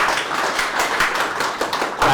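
Audience at a lecture hall talk gives a round of applause, a dense, steady wash of clapping at moderate volume with no speech over it.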